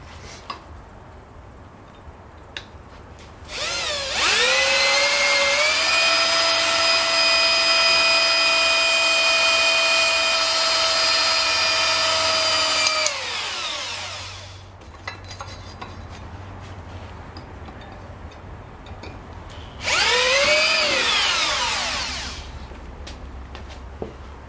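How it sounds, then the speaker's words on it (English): A cordless drill bores holes into a steel propane tank being made into a wood stove: a long, steady motor whine that rises as it spins up, then a second, shorter burst after a pause, loud and close with no talking. "I got my holes pre-marked for my drill"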